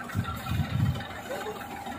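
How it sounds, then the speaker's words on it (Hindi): A tractor loaded with fodder idles nearby with a low, steady rumble, while voices talk over it. "ये ट्रैक्टर चारा भर कर आया है।"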